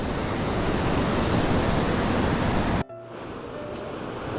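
Water flows beneath a footbridge on a New England waterfall trail near Lincoln, New Hampshire, as a loud steady rushing roar that cuts off suddenly, leaving a fainter hiss of moving water.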